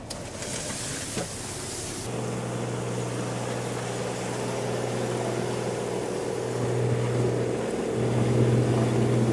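A tractor idles and drones steadily while running its PTO to load corn into a semi truck from a small bin on a snowy farm in freezing weather, a continuous engine hum with a slight rise toward the end.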